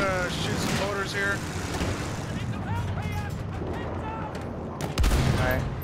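Gunfire in the Battlefield 1 multiplayer Conquest battle at Volga River, a steady roar of shots, explosions and engine rumble throughout, with a sharp louder blast near the end and talk mixed in.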